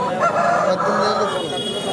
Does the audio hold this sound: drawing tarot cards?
no